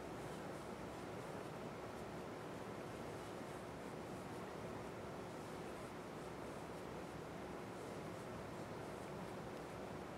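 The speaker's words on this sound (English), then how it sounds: "If you hear a noise in the background, my heat is running." A home heating system runs with a steady, unbroken whoosh of blowing air and a faint constant hum, with no other sounds.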